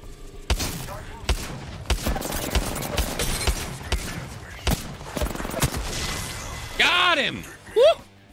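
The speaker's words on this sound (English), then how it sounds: "Sounds like the new sniper." Apex Legends gunfire mixes sharp shots from the new sniper rifle with other weapons, a scattered string of loud cracks and bangs amid a busy firefight, ending in a few whooshing, swooping effects.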